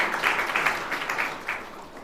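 Audience applause at an ITI college job fair (rozgar mela), welcoming a speaker to the stage; a short burst of scattered, moderately loud clapping that tapers off, with no talk over it.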